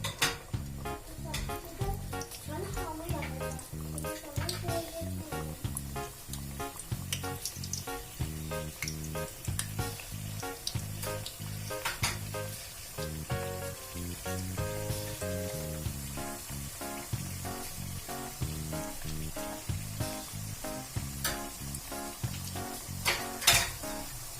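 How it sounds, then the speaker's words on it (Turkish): Khvorost (hworost) dough frying in hot oil in a kitchen, a steady sizzle running throughout beneath prominent rhythmic background music. "Şimdi bunu pişiriyorum. Kızgın yağ atıyorum."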